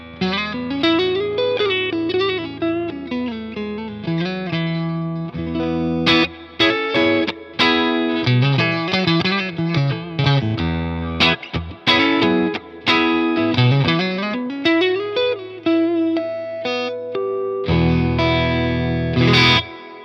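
A cheap Amazon Strat-style electric guitar on its neck pickup plays through a Fender Deluxe Reverb amp model, with steady, loud sustained chords and melodic runs with some effects coloring and brief pauses between phrases.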